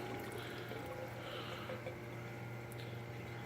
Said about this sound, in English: pump stops, water's draining out